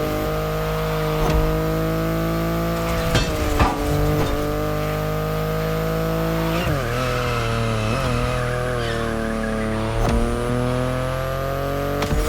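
A BMW i8 driving in the racing game The Crew Motorfest, its engine giving a sustained, smooth electric-hybrid whine and drone that rises and shifts pitch through gear changes, with occasional faint tire noise, steady and close throughout.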